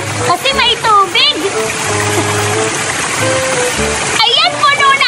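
Water splashes and trickles into a toy water gun as it is filled at a slide, with a voice talking over the fairly close, steady gurgling.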